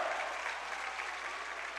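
A high school basketball crowd at a section division final applauds a made free throw, a sustained burst of clapping from the stands, fairly loud and steady throughout, with no talking over it.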